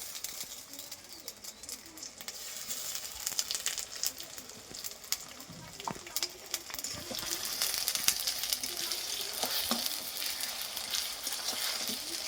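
Ginger garlic paste fries in a pan for a mutton curry, a continuous soft sizzle with scattered clicks and scrapes of stirring, fairly faint and without talk.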